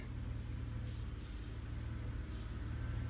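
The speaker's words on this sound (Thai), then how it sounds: "ได้ยินเสียงแอมร็อกกำลังมา" Air brakes on an articulated dump truck hiss several times while the truck approaches a quarry pit on a steep haul road, with short bursts over a steady low engine rumble.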